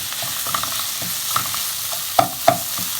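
Grated carrot and potato sizzle in a pan with sautéed onions as they are stirred, a steady low fry with a few sharp clinks of a spoon against the pan near the end, no voices.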